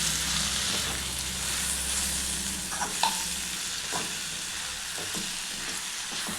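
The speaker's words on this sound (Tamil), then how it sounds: "நல்லா கலந்து விட்டுருங்க அந்த உருளைக்கிழங்கு கூட" Radish leaves and potato being stirred in a frying pan, a steady close sizzle with an even hiss under intermittent scraping and knocks of a spoon against the pan, no voices.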